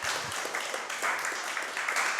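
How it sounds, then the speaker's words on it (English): A live audience gives a round of applause for two guests at the close of a high school athletics coaches' podcast, dense clapping at an even level throughout the short stretch. "Let's give these two gentlemen a big round of applause."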